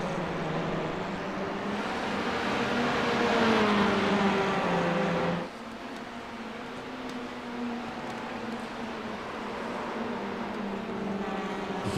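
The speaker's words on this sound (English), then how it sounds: "You can hear the tyres squealing." Touring cars race through a corner at Oulton Park circuit, a continuous engine drone with a high tonal whine, probably tyre squeal, that rises, then cuts off sharply midway as the car passes and the engine note drops.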